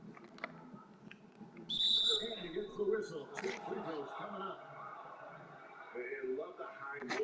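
A short, sharp referee whistle blast from an NBA 2K21 basketball game on PS5, shrill and bright, cutting through steady commentary and crowd noise around the Clippers vs Magic matchup.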